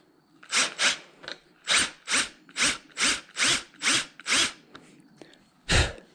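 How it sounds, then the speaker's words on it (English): Short repeated bursts of a power drill with a 3/8-inch bit biting into material toward steel, about ten pulses with brief pauses between, close and fairly loud. "So I got a 3/8 inch drill bit. Just gonna drill a little bit just to help them out."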